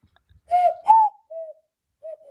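A person imitates a bird call with the voice, giving a few short whistled coos: two louder notes close together, then two softer, fainter ones after brief pauses.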